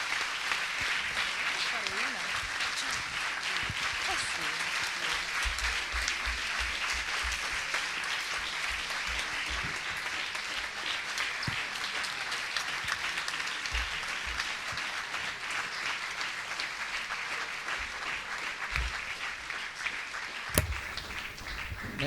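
A lecture audience gives long, sustained applause that holds steady and dense throughout without fading, with some voices mixed in.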